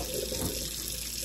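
Tap water runs steadily into a sink as hands are washed before trimming a whole beef tenderloin, a continuous close rushing stream with no talking.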